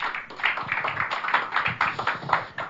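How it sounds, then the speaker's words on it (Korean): A congregation at a pastors' seminar claps to welcome a guest preacher, a moderate run of hand claps in uneven bursts, fairly close and without talk. "우리 박수로 환영하도록 하겠습니다"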